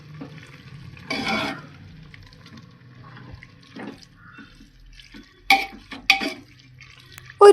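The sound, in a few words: stirring spice powders into squid masala in pan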